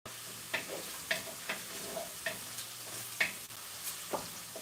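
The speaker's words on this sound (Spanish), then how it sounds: "el ajo y la cebolla, una vez que los comienzas a sofreír" Garlic and onion sautéing in a clay cazuela, sizzling and frying steadily up close, with about a dozen sharp scraping stir strokes at irregular intervals and no talking.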